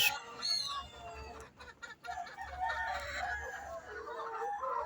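Chickens on a farm cluck and call close by, with a rooster's crow near the start, over a quiet outdoor background of scattered bird sounds.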